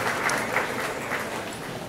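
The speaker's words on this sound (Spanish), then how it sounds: "Vamos a darle un fuerte aplauso de adoración y alabanza al Rey de Reyes y Señor de Señores" A worship congregation at a deliverance retreat gives sustained applause, a dense, even wash of many hands clapping at once, fairly faint and distant, with no voices over it.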